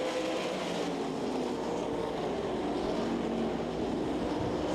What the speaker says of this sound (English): Gary Wright and Don Drow Jr. battling it out down the back straightaway.